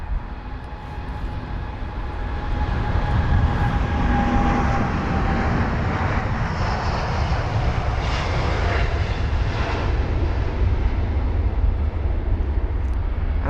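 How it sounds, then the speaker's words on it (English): Boeing 787 Dreamliner jet departing London Heathrow, a steady loud engine roar building over the first seconds and holding as a broad continuous rumble with a faint whine, no talk. "We've got a movement of the 7878 Dreamliner heading to Chennai, flight number BA35."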